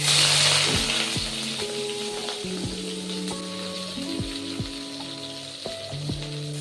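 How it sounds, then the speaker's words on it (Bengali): Eggplant pieces frying in hot oil left from frying lentil dumplings, a close, steady sizzle with crackling pops and occasional clinks of utensils against the pan. "ওই তেলেই আমি ভেজে নেব বেগুনগুলো।"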